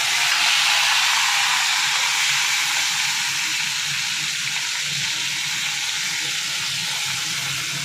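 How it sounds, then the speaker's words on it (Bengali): Whole spices sizzling in hot oil as they are tempered, a steady, bright hiss and crackle of frying held close and loud throughout without any talking. "এই যে আমি এখন ফোড়নগুলো দিয়ে দিব"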